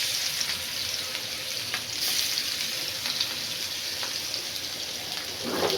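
Rohu fish pieces frying in hot oil, a steady close sizzle with crackling spatter throughout and no voices.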